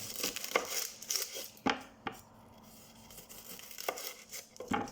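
An onion being cut on a board: a handful of crisp chopping knocks and papery crinkles of onion skin, close but fairly quiet, with a pause between bursts.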